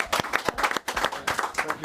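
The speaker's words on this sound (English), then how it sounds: "round of applause" A television studio audience claps in a brief round of applause on a football talk show, uneven bursts of hand claps mixed with voices speaking over it.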